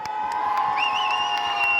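A crowd at a beauty expo hair-cutting show cheers and shouts in one sustained burst, with a high whoop on top and only faint hints of clapping underneath.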